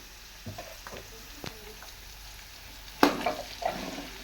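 Chopped ginger, green chili, onion and garlic frying in a pan, a soft sizzle under sparse spatula taps and scrapes, with a sharper clatter and stirring burst toward the end.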